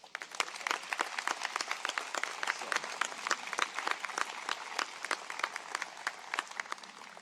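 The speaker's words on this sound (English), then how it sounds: "Let's give them a round of applause." A commencement audience applauds during a class of 2017 student speech, a steady spread of individual claps from a moderately sized crowd, evenly sustained throughout, with no voices over it.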